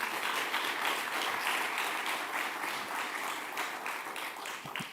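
A forum audience at an investment launch event in Barbados gives a round of applause, sustained crowd clapping that stays full and even before thinning slightly toward the end.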